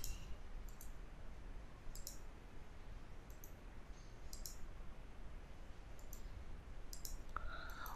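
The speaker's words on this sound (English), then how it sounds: "right click on there, copy layer style, hide this, right click on this, Arun's copy" A computer mouse clicks while someone works in Photoshop: sharp, close clicks spaced out over a steady background hiss, some coming in quick pairs.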